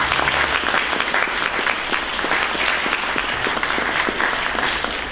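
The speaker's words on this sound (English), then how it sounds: "let's have a round of applause for our candidates" An audience at a 2009 Danbury Board of Education debate gives the candidates a steady round of applause, many hands clapping evenly for several seconds at moderate loudness with no talking.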